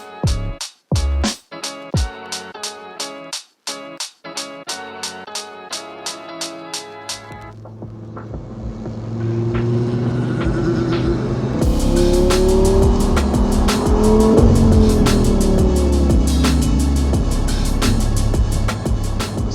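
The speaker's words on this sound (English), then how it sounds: "now it's a case of scrubbing in the tyre, putting a few miles on it, just taking the outer coating off" An Audi R8 GT Spyder's engine blips in a rapid series of sharp revs, then settles into a loud, sustained drive with rising and falling gear pulls and a tyre squeal, while fresh tyres are scrubbed in.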